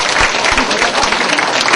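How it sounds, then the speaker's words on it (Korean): A seated audience at a university foreign-student Korean speech contest claps to welcome architecture and engineering students, dense sustained applause throughout with a voice faintly underneath. "박수로 환영해 주시죠"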